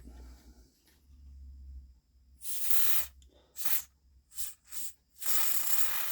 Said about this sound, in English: I want to put a bit of contact cleaner on it.